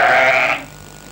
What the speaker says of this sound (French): Jean-Louis Bourry élève des moutons. 240 brebis aujourd'hui